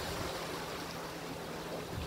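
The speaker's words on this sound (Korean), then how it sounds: "바로 이 앞에 지금 파도가 지금 일어나고 있죠" Sea waves breaking along the shore at a shore-casting fishing spot in Gongsu village: a steady, rushing wash of surf that never lets up, with no voices.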